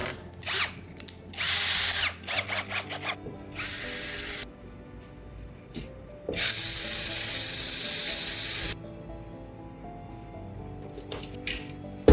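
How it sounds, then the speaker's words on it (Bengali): Power drill boring a new hole in a treasure box, several bursts of high whining drilling at close range, with short pauses and clicks between them and no talking. "এখন আমি আবার নতুন ছিদ্র করবো।"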